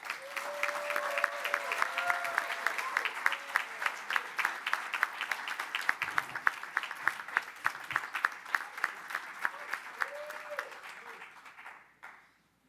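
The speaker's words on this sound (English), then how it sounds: "A warm round of applause now to a two-sport Hall of Famer" A warm round of applause rises from the audience at a university athletics Hall of Fame ceremony for a two-sport inductee, with clearly separate claps at first that thin out and die away at the end.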